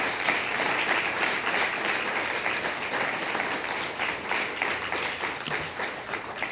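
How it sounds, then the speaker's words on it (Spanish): Applause from a church congregation gathered for a Bible teaching on Galatians chapter 5, a dense, steady patter of many hands clapping close by for the whole stretch without letup. "Si hubieran escuchado unos aplausos"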